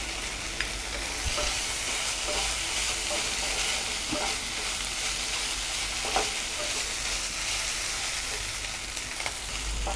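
Ginger garlic paste and curry leaves fry in hot oil for an egg masala gravy, giving a loud, continuous hiss with faint scattered pops and taps. There is no talking.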